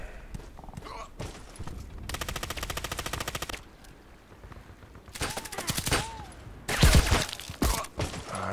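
Gunfire in the online shooter Contract Wars: long rapid bursts of automatic rifle fire, separated by brief pauses, with a louder close burst near the end and faint game effects between.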